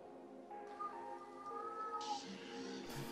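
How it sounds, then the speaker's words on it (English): A pet cat named Dash meows in a drawn-out, wavering call at close range, indoors over a steady background hum. "Hear my cat."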